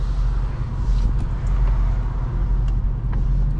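A Dodge Charger Hellcat's engine drones loud and steady from inside the car while accelerating in highway traffic, a deep continuous rumble mixed with road noise, with no one speaking.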